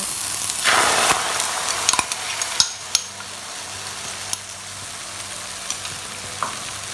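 Knorr instant rice porridge with egg is stirred in a pot over low heat, giving a steady sizzle and bubbling along with a few sharp clinks of a utensil against the pot, and no one speaks.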